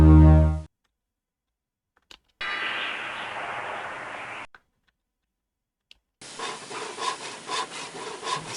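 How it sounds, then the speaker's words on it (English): Sped-up sawing loop from the sawmill in Heroes of Might & Magic 1, with quick rasping wooden strokes played in short separate bursts between silent gaps, loud and close. "The sawmill is suddenly sawing much faster."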